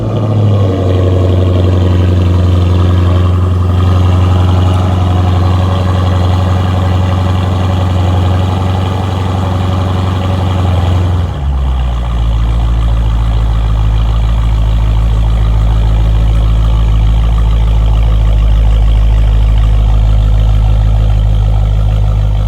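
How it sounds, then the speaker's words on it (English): A Dodge 392 Scat Pack V8 exhaust rumbles at idle, a loud, deep and steady drone that drops into an even heavier low burble partway through, with no talking. "The first one is obviously exhaust."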